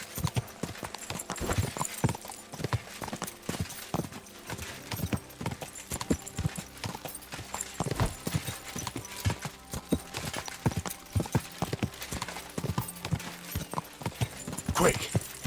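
Horse hoofbeats clip-clop steadily at a trot during a countryside ride in Kingdom Come: Deliverance II, close and continuous, with an occasional faint whinny.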